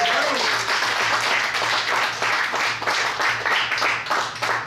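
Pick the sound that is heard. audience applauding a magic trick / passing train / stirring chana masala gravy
audience applauding a magic trick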